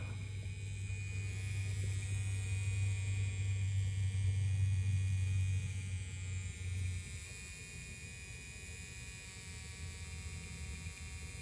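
A diesel heater powered through a power supply switch hums steadily at low volume, the buzz swelling slightly then easing back to a quieter constant drone, with no talking.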